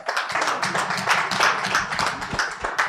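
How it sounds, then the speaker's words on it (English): Indoor audience applause at a business media event, dense steady clapping from a medium crowd for about three seconds, fairly close and even in level without any voices. "Please, with a round of applause,"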